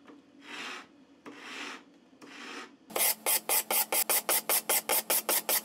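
Kitchen knife tip dragged across sandpaper in one pulling direction, three slow rasping strokes followed by a quick run of about a dozen short scrapes, close and fairly quiet with no talk.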